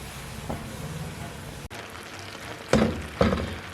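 White sauce with fresh cream and chicken powder simmers in a pan, a steady soft sizzling bubble throughout, with a few louder spattering pops near the end and no talking.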